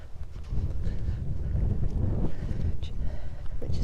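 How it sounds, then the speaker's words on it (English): Wind along the River Haven bank of the River Steeping at Wainfleet, Lincolnshire, a steady low rumbling buffet on the microphone with light gusty fluctuations throughout the short stretch. "A little bit windy on this side."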